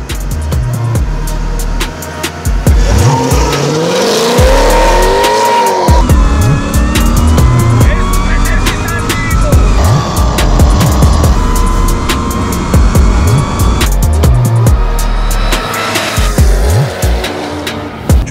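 A 600-plus horsepower BMW M6 and a 700-plus horsepower Mercedes-Benz W124 race off the line, engines roaring loud and close with rising revs, gear changes and brief tire squeal over about eighteen seconds.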